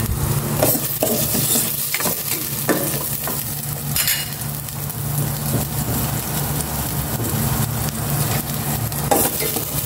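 Oil sizzles and crackles steadily in a frying pan while pork adobo cooks, a close, continuous frying hiss with occasional stirring scrapes and clinks of a utensil against the pan.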